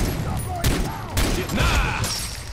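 Rapid gunfire bursts and mechanical clatter from the video game Far Cry 3 co-op, loud and close, with sharp repeated shots over a busy game soundscape.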